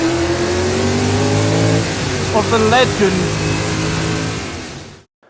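Bruce McLaren's Can-Am winning McLaren race car revs on track, its engine note climbing and falling in a close, throaty roar while someone talks over it, before cutting off abruptly.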